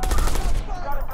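Gunfire in the open-world game Watch Dogs comes as a loud, dense burst of rapid shots lasting about a second, close and harsh.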